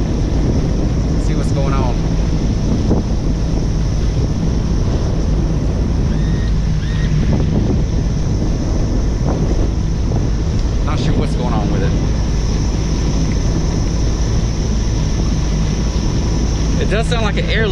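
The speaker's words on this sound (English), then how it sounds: "It was revving really high, and this air leak sound coming from it." A new Mercury outboard motor revving high with a constant air-leak hiss, a loud steady drone with wind and water noise around it and someone talking over it.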